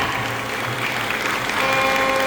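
Audience applauding at a folk singing performance event, a continuous loud wash of clapping from a crowd that holds steady throughout.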